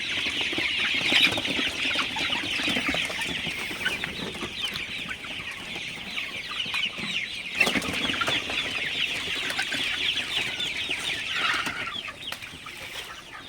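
Sonali super hybrid chickens, 44 days old, cluck and chatter steadily in a group inside a poultry shed, moderately close, with occasional sharper squawks and wing flaps among the flock.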